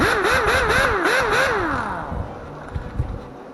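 A pneumatic impact wrench runs on shop air with a wavering, revving whine and rattle that winds down after about two seconds, followed by a few faint knocks.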